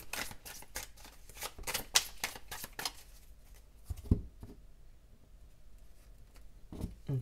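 A deck of tarot cards shuffled and cut by hand: a rapid flurry of riffling card flicks up close, followed by quieter soft handling and a couple of sharp taps.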